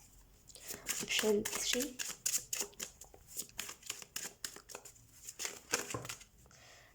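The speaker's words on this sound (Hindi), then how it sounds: "हम कार्ड शफल कर लेते हैं" Tarot cards being shuffled by hand for a pick-a-card reading, a run of quick papery riffles and slaps recurring across the stretch while someone talks over them.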